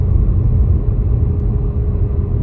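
Cars drive near a flooded Thornham Harbour during a storm, heard as a steady low rumble of traffic mixed with wind, continuous and fairly loud with no clear voices.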